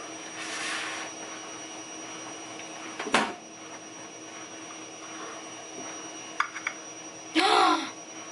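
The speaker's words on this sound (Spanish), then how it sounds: "Uy, la lavadora. Madre, ahora la lavadora." A home washing machine runs with a steady, even hum and whir, with a few brief clunks and a louder rattling burst near the end, quiet and close.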